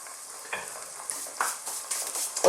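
Vegan eggplant filling of onions and beans fries in a pan over medium heat with a soft sizzle. A spoon stirs it in several scraping bursts that grow a little louder toward the end.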